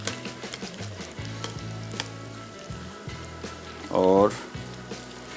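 Chicken cheese pakora frying in a pan, a steady crackling sizzle with stirring and scraping underneath, while someone talks briefly over it.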